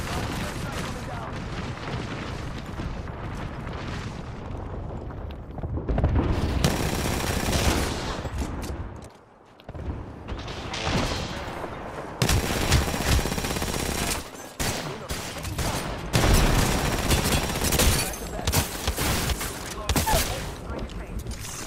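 Bursts of rapid automatic gunfire and heavy booms from an Apex Legends Arenas ranked match, loud and nearly continuous, with a player talking over the shooting at times.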